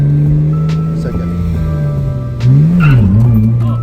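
A manual stick-shift car pulls away while the driver learns to change into second gear. The engine hum climbs and wavers as the revs rise, then swells louder near the end, and a voice is heard over it.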